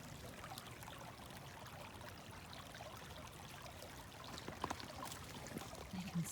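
Water trickling and flowing over a beaver dam on a river, a faint, steady outdoor wash with no voices.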